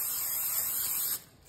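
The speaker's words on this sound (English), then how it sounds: "I'm using olive oil spray," A can of olive oil cooking spray hisses into a 13x9 baking dish in one steady, close burst lasting just over a second, then cuts off abruptly, with no talking.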